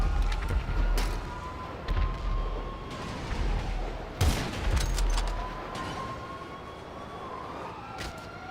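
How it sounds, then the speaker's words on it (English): Sniper rifle fire in GTA Online, several sharp loud shots spaced a few seconds apart over game background noise and a rising, falling siren-like whine. "we have an insane sniper trick shot from Exterior"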